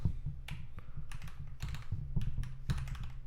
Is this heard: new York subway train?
no